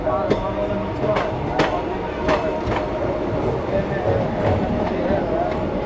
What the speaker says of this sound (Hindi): गाड़ी अपनी निकल चुकी है सासाराम जंक्शन रेलवे स्टेशन से